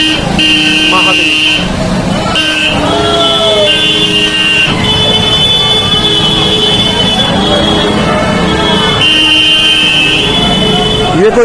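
A siren from a passing VIP convoy wails in repeated rising and falling tones over heavy road traffic and honking, with people talking loudly throughout.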